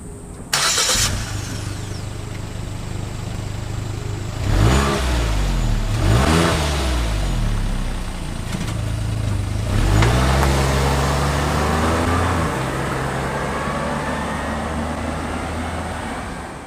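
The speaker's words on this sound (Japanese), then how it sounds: "ノーマルマフラー、低速。" Stock muffler on a Suzuki Jimny JB64W (3BA-JB64W) at low speed: a steady low exhaust drone with three rising-and-falling revs, the engine starting at the outset, recorded close and alone.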